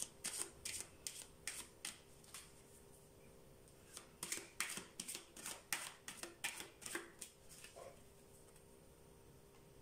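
Tarot cards are shuffled in quick, crisp riffling bursts close up, with short pauses between runs of flicking and snapping and no talk.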